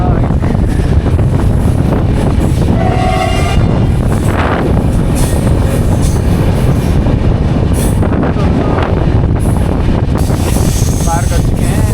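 Train passing through a railway station on a long journey from NJP to Agartala, a loud continuous rumble and rattle of rail wagons with wind buffeting, brief squeal-like tones and a voice talking over it.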